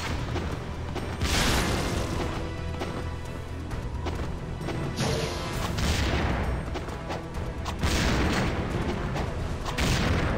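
Incendiary shurikens explode in Ninja Gaiden 2, with several loud, booming blasts in separate bursts amid clattering combat noise and no talking.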